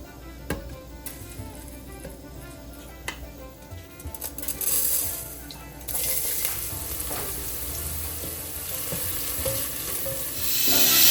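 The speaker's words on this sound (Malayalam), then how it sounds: "നമുക്ക് എണ്ണ ഒഴിച്ച് കടുക് പൊട്ടിച്ച് എല്ലാം റെഡിയാക്കണ്ടേ" Mustard seeds splutter in hot oil in a pan in a Kerala home kitchen: quiet stirring clicks at first, then a loud, rising crackle and sizzle in the second half, with no voices.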